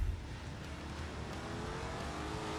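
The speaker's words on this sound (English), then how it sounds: "Drifting with the traction control off." Car in The Grand Tour game drifting around a track with traction control switched off: a steady, loud engine roar with broadband tire and road noise throughout, no voices.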